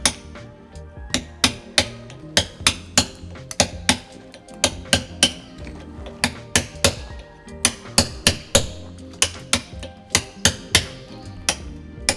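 Stonemason working limestone with a point chisel and hammer: a steady run of sharp, ringing hammer blows, about two per second, close and loud with no talk.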